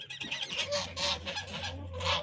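Geese honk repeatedly in a noisy farmyard, their loud nasal calls overlapping in bursts close by, with a low hum underneath; no speech.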